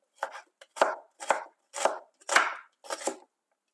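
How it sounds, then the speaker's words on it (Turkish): Knife finely chopping mushrooms on a cutting board for mock kokoreç: six crisp, evenly spaced bursts of close cuts, each a quick flurry, with no talk. "Minik minik doğruyoruz ve hemen tavaya alıyoruz."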